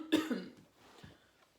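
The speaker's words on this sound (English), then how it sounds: "I'll probably be coughing through this read." A single close, throaty cough followed by a short rasping throat clear, then quiet breathing.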